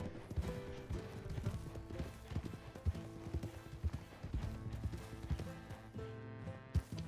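Hooves clip-clop steadily as a mule painted like a zebra and a horse travel in Red Dead Redemption 2, a quiet, rhythmic walking pattern of close, distinct hoof strikes with no talking.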